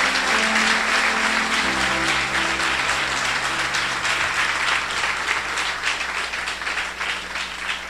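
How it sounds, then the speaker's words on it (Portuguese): A church congregation gives a long round of applause, a loud, sustained roar of many hands clapping that fills the room and tapers slightly near the end, with a low musical hum underneath. "dá uma salva de palmas para o Senhor Jesus"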